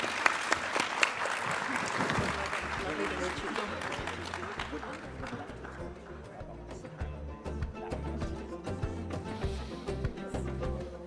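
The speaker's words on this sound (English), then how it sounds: "Nice round of applause." A round of applause from a conference audience, clapping loud at first and gradually thinning out, with a few scattered claps near the end.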